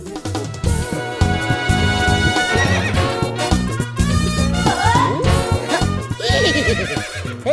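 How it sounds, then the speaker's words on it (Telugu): A horse neighs and whinnies over steady clip-clopping hooves in a Telugu comedy film scene, set against a busy, loud music score throughout. "ఎవడన్నా గుర్రం ఎక్కుతాడు, వీడేంటో గుర్రాన్ని ఎక్కించుకున్నాడు"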